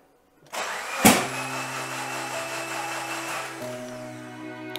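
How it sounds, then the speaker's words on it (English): A car engine turns over steadily with the starter while a compression tester is fitted, then keeps up a sustained mechanical drone with a sharp transient near the start and no talking. "Crank it over for about 6 revolutions and read what the results are."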